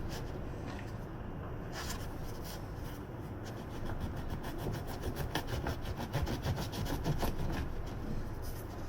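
A knife saws through a crusty sourdough loaf with steady, rough back-and-forth rasping strokes that grow faster and more rhythmic near the end, close and fairly quiet, with no talking.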